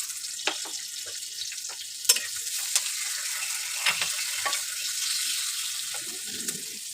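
Whole spices dropped into hot oil for a Bengali-style country chicken bhuna, sizzling in a frying pan with a steady hiss, a few sharp crackles and clinks of a spoon stirring, close and fairly loud.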